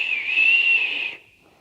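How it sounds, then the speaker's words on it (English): A single steady whistle, presented as a train whistle, holds a bright sustained tone for about a second before cutting off, with nothing else behind it. "The whistle blew."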